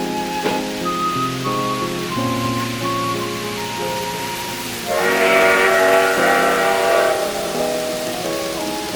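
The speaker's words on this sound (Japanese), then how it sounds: "特急来鳥とデコイチ石炭列車の走行シーンをご覧いただいて" A KATO N-scale model train rolls along steadily with layered tonal hum and rail noise, growing louder and brighter midway as it passes close, with no voices.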